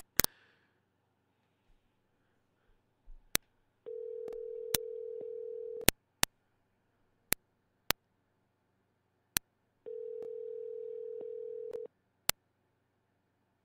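Telephone line tones while placing a call: two steady, even tones of about two seconds each, separated by silence and scattered sharp clicks, clear and close with no talking.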